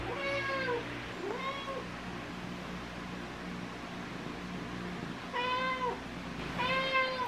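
A cat meowing indoors: two drawn-out meows early, then two more after a quiet pause, fairly close, over a soft steady fan-like hum.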